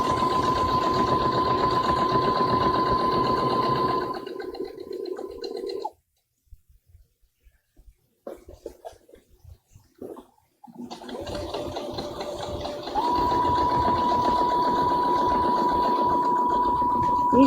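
A Brother sewing machine top stitching around the edge of a fabric bookmark, running in steady bursts with a high whirring hum, stopping for several seconds of near silence before starting again.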